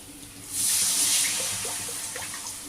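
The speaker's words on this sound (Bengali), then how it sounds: "এবার আমি পরিমাণ মতো একটু জল দিয়ে দেবো" Water is poured into a pan of fried spice paste while making a spicy papda fish curry, starting as a sudden, steady splashing hiss that gradually settles, heard close up without any talking.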